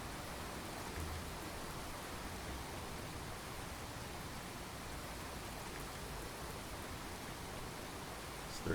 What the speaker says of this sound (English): Oh, there comes the rain again.